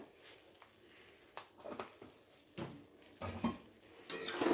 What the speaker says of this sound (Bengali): হালকা নেড়ে চেড়ে এবারে আমি নাবিয়ে ফেলবো